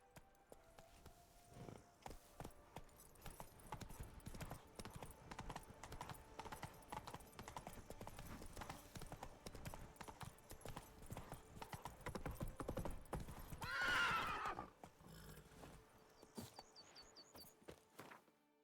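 A horse in The Witcher 3: Blood and Wine trots with steady hoof clip-clops on hard ground, then gives a short whinny near the end, all fairly quiet against faint ambient sound.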